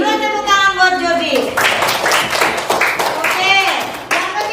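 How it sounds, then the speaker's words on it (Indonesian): Classroom applause for a student, a burst of children's rapid hand clapping with a teacher's voice over it, close and lively throughout. "tepuk tangan buat Jordi"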